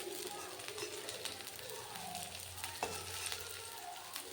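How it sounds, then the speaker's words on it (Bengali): Papaya fritters fry in a little mustard oil, giving a soft, steady, faint sizzle with a few light utensil clicks and a muffled voice in the background. "খুব অল্প তেলে এগুলো ভাজা হয়ে যায়।"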